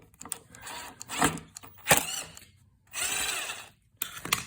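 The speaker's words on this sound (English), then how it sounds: "We have 4 bottom screws so we can remove the bottom plate." Bottom plate screws come out of a Definitive Technology tower speaker, probably with a cordless driver: short bursts of motor whirring alternate with clicks and ratcheting, close by and broken up by brief pauses.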